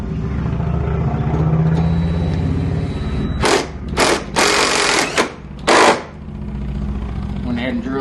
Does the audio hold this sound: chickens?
no